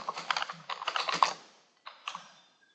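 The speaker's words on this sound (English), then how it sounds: "I'm going to type in the word frequency" Fingers type on a computer keyboard in two quick bursts of close, crisp key clicks, then a pause and a few final taps, with no voices.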